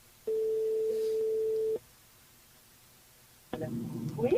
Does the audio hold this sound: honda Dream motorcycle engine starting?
no